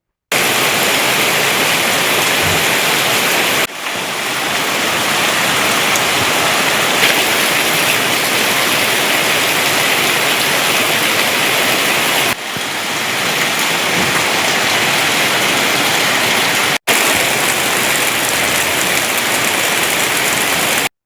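Heavy summer rain falls in Kerala as a dense, steady roar of downpour, loud and unbroken, with a couple of brief cuts and no voices.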